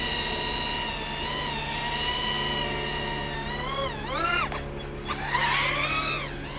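A FuriBee X140 micro drone holds a steady high motor whine, then its pitch swoops and briefly cuts out before spinning back up, close and loud with no talk.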